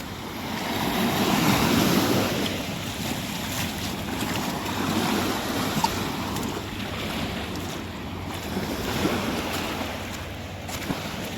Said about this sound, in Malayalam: സാധാരണ ചാകരപ്പാട്ടിലാണ് വളരെ ചെറിയ തിരമാലകൾ കാണുന്നത് ഇവിടെ